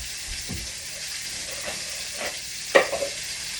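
Seasoned ground beef frying for a breakfast sandwich, giving a steady loud sizzle and hiss with a few stirring scrapes near the end, no talk.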